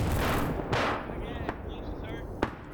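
Gunfire cracks in a modern-day Ukraine versus PMCs military shooter game, a few sharp, loud shots spaced across a noisy battle backdrop, with voices faintly mixed in.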